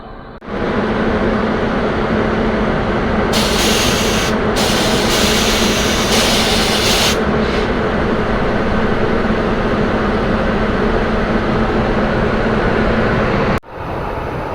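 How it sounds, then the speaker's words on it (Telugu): The Janmabhoomi Superfast Express, Lingampalli to Visakhapatnam, hauled by a Lalaguda WAP-7 electric locomotive, pulling in with a loud, steady, close rumble and rush that holds throughout. "వ్యాప్సన్ లోకోమోటివ్, లాలాగూడకు సంబంధించిన వ్యాప్సన్ లోకోమోటివ్ ఇది."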